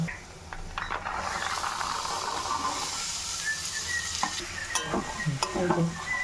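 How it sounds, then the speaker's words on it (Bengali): Pre-fried peas and potatoes stirred into a pan of cooked-down masala for ghugni, a steady close sizzle and hiss of frying with scraping stirs and light clinks throughout, no talking. "এরপরে এর মধ্যে আমি ওই আগে থেকে ভেজে রাখা মটর আর আলুটা দিয়ে দেব।"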